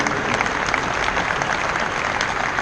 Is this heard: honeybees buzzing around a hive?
no